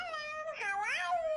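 Cat-voice effect from a kids' Alcatel TCL Movetime MT40 X smartwatch voice changer: a single synthetic, pitch-shifted meow-like wail with a rising and falling harmonic sweep, heard up close and alone.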